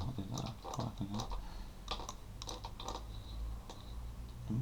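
Typing on a glitchy computer keyboard: rapid irregular key clicks in close, steady bursts with short pauses, continuing throughout over a faint background hum.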